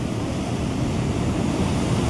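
Water gushing from the opened gates of Nagarjuna Sagar Dam, a continuous loud roaring wash of rushing water with no voices.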